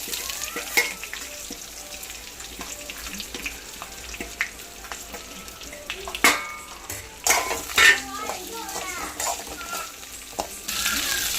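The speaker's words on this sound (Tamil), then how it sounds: "இந்த ஸ்டேஜில் வந்து நம்ம எடுத்து வச்சுருக்க எல்லாத்தையும் ஒன்று போல் போட்டு வதக்கிடலாம்." Ingredients and a small piece of ginger sautéing in hot oil in a pan for kalan kulambu, a continuous sizzle with scraping stirs and clinks of a utensil on metal, close by and without voices.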